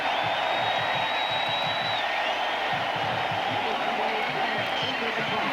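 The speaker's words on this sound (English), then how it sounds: "Schager comes on as the crowd roars its approval" A crowd at a UCLA Bruins college football game roars in approval, a steady loud wash of stadium noise lasting the whole stretch, with a faint commentator voice underneath.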